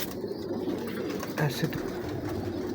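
Performer pigeons coo softly in low, repeated murmurs close by, while someone speaks briefly over them.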